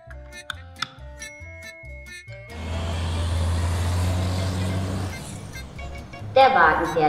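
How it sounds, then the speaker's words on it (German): Cartoon car engine starting up and driving off to the market, a steady loud hum that swells and holds for a few seconds before fading, after some short musical notes. "Der Wagen fährt jetzt auf den Markt."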